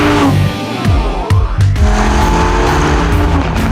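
A Lamborghini Huracán LP 580-2 engine roars and revs loudly up close, the pitch rising and falling through sharp gear changes, with a bright, aggressive exhaust note.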